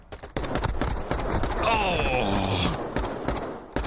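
Rapid bursts of gunfire from a Call of Duty League esports match between Vancouver Surge and London Royal Ravens, crackling shots in quick succession beneath an excited caster's running commentary.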